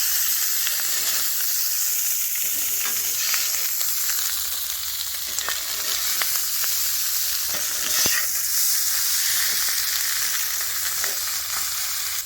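Shrimp and chorizo sizzle loudly on a fajita griddle as they are flipped and mixed. A dense, steady hiss carries scattered crackles and scraping stirs throughout, close up, with no talk.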